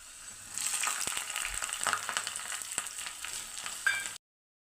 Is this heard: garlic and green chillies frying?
yes